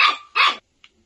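Two loud, close dog barks come back to back, followed by a short faint yip, then silence.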